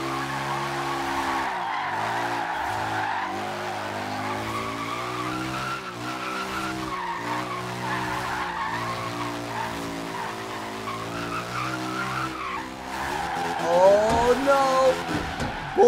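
Car drifting in Forza Horizon 3, with a steady engine drone and long sustained tire squeal, louder skidding near the end, no talk.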